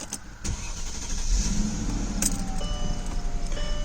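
A car engine cranks and catches, then settles into a steady idle rumble.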